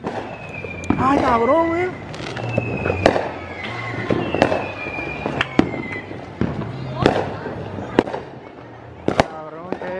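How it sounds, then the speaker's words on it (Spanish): New Year fireworks bang and crackle in a string of sharp bursts, some with whistling trails, while people shout and exclaim nearby. "Vamos a ver los fuegos artificiales ahora."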